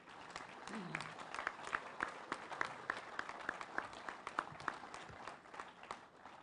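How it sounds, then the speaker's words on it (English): A rally crowd of union mine workers applauds veterans in a sustained round of clapping with scattered louder claps, steady and moderately near, with faint voices in the mix. "Let's give a round of applause, and don't sit down yet."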